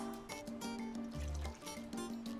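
Beef broth is poured into a roasting pan over onions, a faint, steady trickling splash lasting a couple of seconds with no speech.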